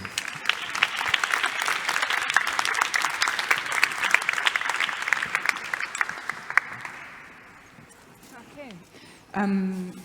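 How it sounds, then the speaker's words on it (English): An audience at a lecture event applauds a speaker with brisk, lively clapping for several seconds, then the applause dies away and a single voice begins speaking close to the microphone. "a big round of applause for Ahmet again"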